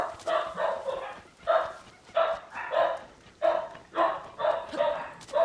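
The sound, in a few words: dogs barking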